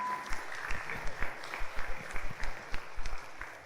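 Audience applause at a debate between candidates for chair of PERADI, the Indonesian advocates' association, in a hall: scattered, uneven clapping that rises and falls across a few seconds, with distinct individual claps audible.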